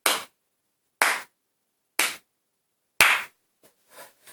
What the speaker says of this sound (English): slow clap for the whole episode